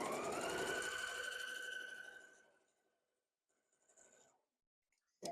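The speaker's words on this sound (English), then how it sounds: "Line that up a little bit, and now we sew." A sewing machine stitching quilt hexagon pieces runs in one steady, close hum for about two seconds, then slows and stops, followed by soft handling of fabric and a final short burst of stitching.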